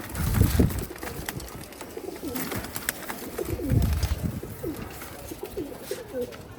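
Several pigeons coo in overlapping low, rolling calls at close range, rising and falling over several seconds against a steady background hum.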